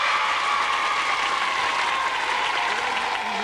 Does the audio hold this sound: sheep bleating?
no